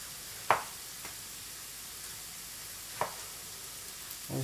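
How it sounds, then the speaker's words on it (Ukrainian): A vegetable sauté fries in a pan during an overnight fishing trip with a tent, producing a soft, continuous sizzle broken by a few sharp knocks, close and quiet with no speech. "Поки жариться наша зажарочка"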